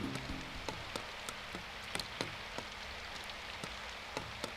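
Steady rain falling in the visual novel game Symphonic Rain, a soft continuous patter with scattered sharper drops landing close by.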